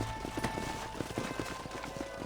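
Horses' hooves clip-clop in an irregular walking rhythm across ground in the Red Dead Redemption video game, close and moderately loud over faint ambient background.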